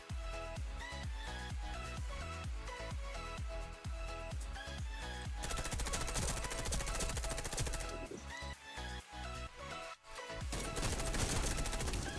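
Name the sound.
gunfire in the video game Warface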